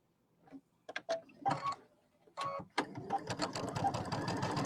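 A sewing machine stitching a quarter-inch seam on a quilt block: a few short starts and stops, then a steady fast mechanical whir with rapid ticking, heard up close.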